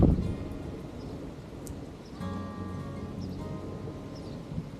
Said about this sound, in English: a pretty impressive thunderstorm was starting